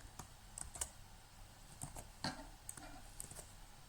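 Rapid keystrokes tapping on a computer keyboard in short irregular bursts, close and fairly quiet, with no voices.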